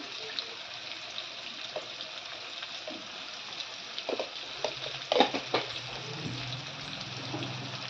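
Soft sizzle of ginger paste frying in a pan, with a few scraping stirs clustered toward the end, close and fairly quiet with no talking.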